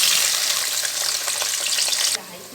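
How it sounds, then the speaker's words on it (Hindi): Onions fry in hot oil for a mutton biryani masala, giving a loud, dense hiss that then drops abruptly to a softer sizzle just after two seconds. Nobody speaks. "अब हम उसी ऑयल में वो वाले प्याज डाल देंगे जिन्हें हमने मसाले के लिए रखा था।"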